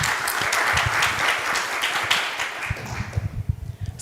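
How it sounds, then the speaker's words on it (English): Audience applause for a panel at a women's mental health discussion event, broadband clapping that is steady and fairly loud at first, then thins into scattered, uneven claps toward the end. "if we can all give them a round of applause for being here"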